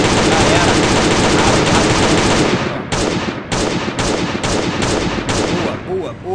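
AK rifle fire in a video game, a loud, dense stream of rapid shots that then breaks into six short bursts, with a brief voice near the end.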